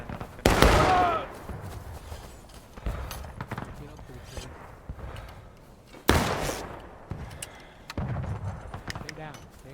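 Muskets fire in the War of Rights battle game: a few loud, sharp, separate shots with echoing tails, spaced irregularly over quieter battlefield noise.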